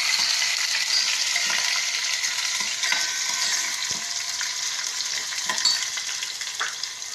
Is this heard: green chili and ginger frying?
yes